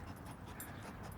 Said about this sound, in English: And that was the sound of my dog, who's very excited and would like to play with the skunk.